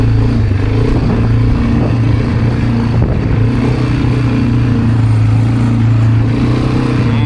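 A Bashan 300 ATV engine drones loud and steady while the ATV tows a 600 kg trailer over a curb. Faint clatter sounds under the constant running engine.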